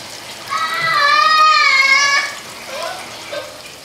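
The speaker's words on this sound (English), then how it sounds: "I'm going to add a little bit more water because I wanted to cover the ham hock" Water pours into a cooking pot holding collard greens and a ham hock, making a ringing, pitch-shifting gurgle that swells for about two seconds and then tapers into faint splashes.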